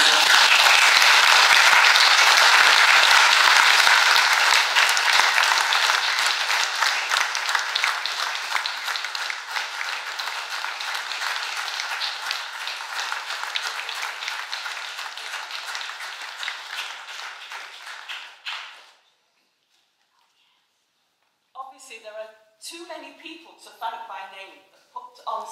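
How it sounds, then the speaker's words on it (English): Audience applause at a church gathering of St. Deniol's members in Hawarden, a dense, loud clapping that gradually fades over about twenty seconds, then stops; a voice speaks briefly afterward. "think now is the time for applause"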